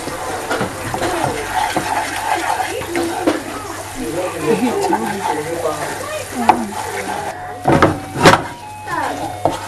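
Coconut toffee is stirred in a pot as it thickens toward golden brown, with wet scraping and bubbling sounds under a person talking, and a few sharper knocks near the end.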